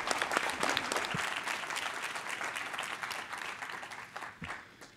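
Audience applause at a national student personal finance competition, a dense, even roar of many hands clapping together, holding steady and then tapering slightly at the close.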